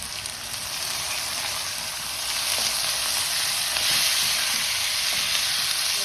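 Chopped tomatoes with chili, cumin and coriander powder and salt frying in a pan over a medium flame for an egg and potato curry, a steady close sizzle that grows slightly louder partway through, with no talking.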